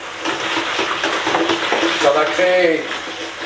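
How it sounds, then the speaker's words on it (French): A whisk stirs a dishwasher tablet in hot water, a busy sloshing, swirling wash with light clinks against the container, while someone talks over it. "on va mettre de l'eau chaude, la pastille dedans, on sort le fouet"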